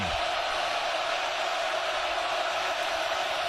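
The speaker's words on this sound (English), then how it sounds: "And a crowd cascading with a roar in his face." A large football stadium crowd at a Colorado Buffaloes versus Oregon Ducks game lets out a loud, steady roar, a thick continuous wall of noise that stays level throughout.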